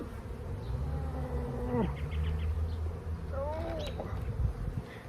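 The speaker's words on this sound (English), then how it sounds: "you're going to see a lot of bees flying around" Many honey bees buzz close by around a hive in a dense, steady hum, with individual insects droning past and shifting pitch.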